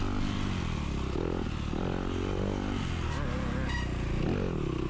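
A Yamaha dirt bike in first gear at a Denver harescramble race, its engine droning steadily and loudly at low revs throughout, with a faint voice buried in the noise.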